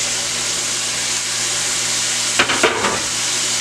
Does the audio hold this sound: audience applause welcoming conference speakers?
no